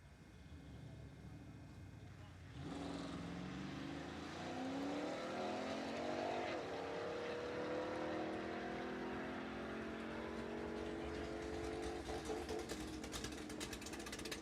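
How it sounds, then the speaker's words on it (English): A 2026 GMC Canyon pickup launches down a drag strip at a live racing event, its engine note rising steadily and sustained from a distance, with an announcer speaking over it. "But you are looking at a 2026 GMC Canyon being raced down the track today."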